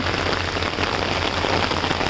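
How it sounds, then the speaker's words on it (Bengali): Heavy rain pours down steadily, a dense continuous hiss of drops striking a surface, loud and close. "ট্রেনের লাইটের আলোয় বৃষ্টিটা দেখা যাচ্ছে এইদিকে"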